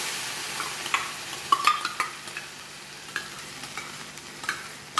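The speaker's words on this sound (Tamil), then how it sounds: "கோதுமை மாவு கொஞ்சம் கிளறவும் நம்ம வேக வச்ச பாசிப்பருப்பு சேர்க்கணும்." Wheat flour and boiled moong dal are stirred in a pan, giving faint scraping and clicking strokes at an irregular pace over a soft, steady sizzle.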